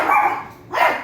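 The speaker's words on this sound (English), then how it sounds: "And some dogs barking in the back." Dogs bark in the background during honey gathering: two short barks separated by a brief gap, moderately loud and heard alone without talking.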